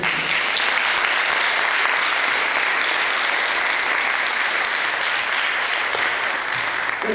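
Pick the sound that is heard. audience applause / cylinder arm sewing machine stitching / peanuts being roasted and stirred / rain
audience applause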